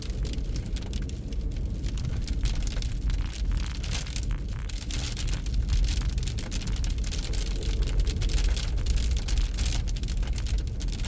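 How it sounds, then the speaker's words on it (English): Snow and ice pelt a moving vehicle on a wintry school-morning drive, a dense, continuous patter of small pings and taps over the low rumble of the road, steady and fairly loud throughout. "it's bigger snow / ice hitting the vehicle, because you can hear it pinging off"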